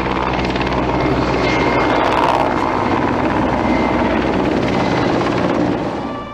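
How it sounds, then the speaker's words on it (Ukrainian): Mi-8 helicopter circling overhead above a crash site, its loud, steady rotor thump and turbine roar continuous throughout, easing slightly toward the end. "кружляючи над місцем падіння на такому ж гелікоптері Мі-8"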